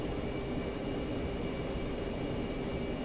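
An F-15C jet in the DCS flight simulator taxis toward the runway, giving off a steady, even engine whine and rush with no change in level, heard alone.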